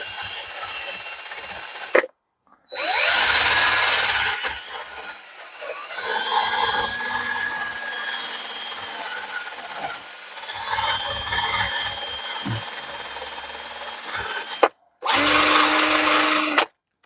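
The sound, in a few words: drill with wire wheel cleaning wheel studs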